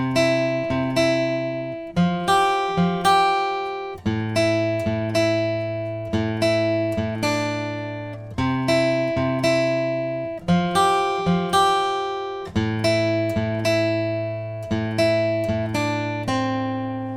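Guitar picking out the verse of a song, a clear, close melodic pattern of plucked notes repeating in even phrases, played alone without talk.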